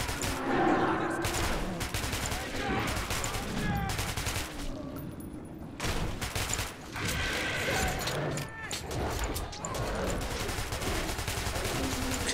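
Rapid bursts of automatic gunfire and single shots crack throughout a fight with mutants in the first-person shooter Metro 2033 Redux, loud and dense, with short pauses between volleys and weapon mechanism clicks.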